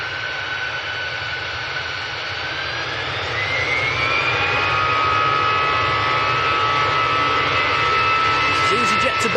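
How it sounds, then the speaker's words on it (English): An EasyJet jet airliner at Manchester Airport, heard as a loud, continuous jet engine roar with a rising whine that builds and swells partway through, close and steady throughout. "This is EasyJet to Belfast."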